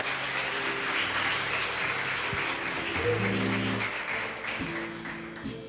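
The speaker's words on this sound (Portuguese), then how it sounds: "uma salva de palmas ao Senhor" Congregation clapping at an evangelical church service, a steady dense wash of applause throughout, with sustained organ or keyboard chords ringing underneath.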